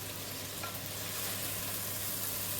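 Teriyaki beef stir fry sizzling steadily in a hot pan while a big spoon scoops through it, a continuous close frying hiss with no talk.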